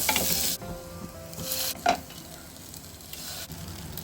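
Carrots, beans, squash and a little ginger fry in a pan for khichri, giving a steady sizzle broken by scraping stirs and a sharp clink of the utensil against the pan, with no voices.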